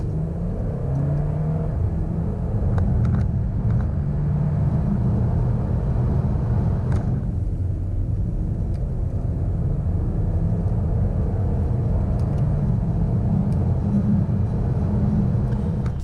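A 2018 Porsche Macan S accelerating hard from 30 to 70, heard from inside as a steady, loud low engine rumble and road roar that holds its level throughout with no talking.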